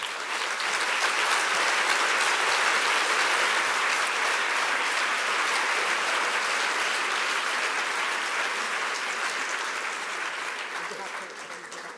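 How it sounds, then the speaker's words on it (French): An audience at an awards event in a hall breaks into loud, sustained applause, dense and continuous clapping that holds steady for several seconds before slowly tapering near the end. "On peut l'applaudir bien fort."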